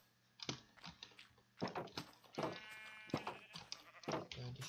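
Sheep bleating in Minecraft, several short nasal bleats spaced a second or so apart, mixed with quick clicks of a computer keyboard in a quiet room.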